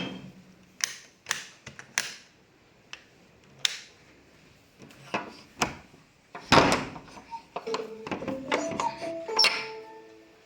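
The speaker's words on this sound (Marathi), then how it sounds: "दरवाजा लाव" A door is pushed shut with a series of clunks, clicks and knocks in a quiet room, followed by faint rattling.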